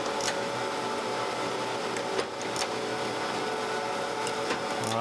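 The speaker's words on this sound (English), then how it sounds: "it should start grinding here" A surface grinder takes a half-thousandth pass across a magnetic chuck to grind it flat, giving a steady, loud mechanical whir with a hissing grind and a few brief ticks throughout.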